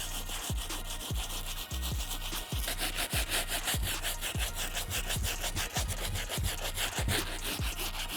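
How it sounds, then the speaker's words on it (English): Stiff bristle brush scrubbing the rubber midsole of Converse Chuck sneakers, rapid rhythmic back-and-forth strokes, close and steady throughout with no talking. "I wanna go ahead and hit it with our stiff bristle brush right now"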